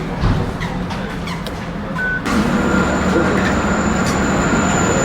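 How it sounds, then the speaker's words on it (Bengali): A tram rolls past on its line in Dubai, a loud continuous rail rumble with a short high electronic beep partway through and a steady whine after, close and alone without talk. "এই হচ্ছে লাইন ট্রামের, এই চলে গেল ট্রাম।"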